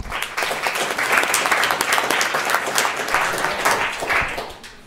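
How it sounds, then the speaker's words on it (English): A lecture audience claps to welcome a geology speaker before his talk on plate tectonics, a close, loud, continuous patter of many hands that holds steady and begins to thin out near the end. "Slightly worrying to get applause before you start"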